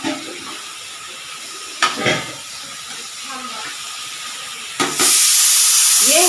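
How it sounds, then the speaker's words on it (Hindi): A pressure cooker on a home kitchen stove releases a sudden loud, steady steam whistle that hisses on for the final seconds, after quieter kitchen clatter and brief bursts. "और कुकर में भी सीटी आने वाली है।"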